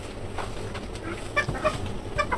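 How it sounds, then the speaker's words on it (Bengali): A village hen clucks after laying an egg, giving a few sharp, close cackles in quick bursts over a quiet farmyard background. "একটা ডিম পারছে রে, একবারে পুরা ডিম"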